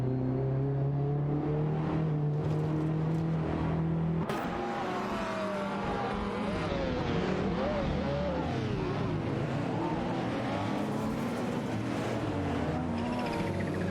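Racing cars in a video game, a Caterham Super 7 1700 and a Lancia, roar continuously around Knockhill Racetrack, engines rising and falling in pitch as they rev and shift, with layered engine whine from several cars throughout.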